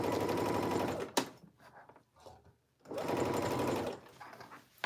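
Sewing machine stitching fabric for a jacket, running in two steady, close mechanical whirring bursts separated by a pause with soft handling noises.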